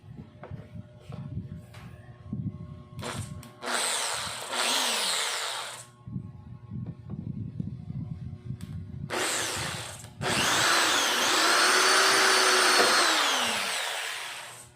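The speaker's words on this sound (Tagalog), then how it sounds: "So bubutasin ko muna to para malagay natin yung tornilyo." A power drill bores a screw hole into a Yamaha Sniper 150 motorcycle belly pan, with two loud sustained whirring bursts, the second longer, separated by quieter handling noise.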